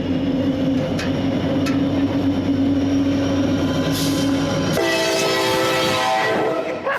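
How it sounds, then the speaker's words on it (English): A Norfolk Southern freight train rumbles past close by approaching a bridge, its horn blaring in a sustained chord through most of the passage before shifting pitch near the end. "get a shot of the freight train approaching the bridge"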